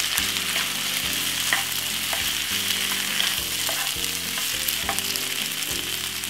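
Pasta and cabbage stir-fry sizzle loudly in a hot pan while a utensil scrapes and tosses them in repeated strokes, close and continuous with no voices.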